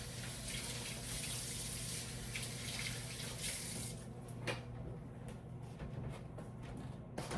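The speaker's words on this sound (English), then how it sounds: "I'm gonna wash my hands." Kitchen sink tap running while hands are washed, a steady hiss of flowing water that thins out partway through into splashes and drips, fairly faint, no talking.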